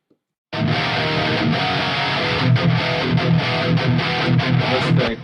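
Dense distorted electric guitar riff with steady chugging rhythm, loud and close, a light roomy reverb tail from Raw Machine reverb widening the sound.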